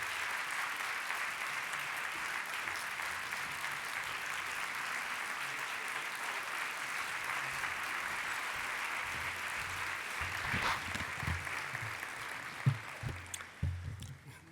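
A conference audience at the Read On Arizona Literacy Summit applauds to welcome Governor Doug Ducey, with steady sustained clapping filling the room, then thinning into scattered claps near the end.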